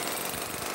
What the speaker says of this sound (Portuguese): utilizando um martelete para quebrar a edificação, parece-me ser uma parede de bloco